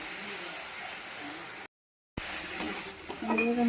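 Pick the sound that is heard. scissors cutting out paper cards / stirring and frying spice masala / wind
stirring and frying spice masala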